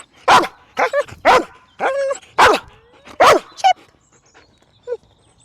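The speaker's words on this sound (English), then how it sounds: "Typically, my dogs bark, so I'll show you what that looks like." A dog barking on cue in a training session, about seven loud sharp barks in an irregular burst, ending with a fainter yip, close and alone.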